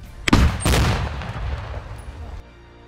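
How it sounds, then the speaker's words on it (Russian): An RPO flamethrower is fired at a military range, a sharp loud blast followed by a second burst and a rumbling, echoing roar that decays over about two seconds. "Мы ведем огонь огнеметом РПО на дальностях от 100 метров до 600 метров по бронированным машинам, по позициям противника."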